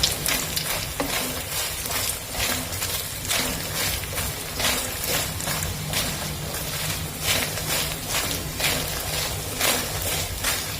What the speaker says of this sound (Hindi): अब इसी घी में हम अपने मखाने डाल देंगे। ये देखिए ये मखाने ये इसी में मैं फ्राई कर लूंगी।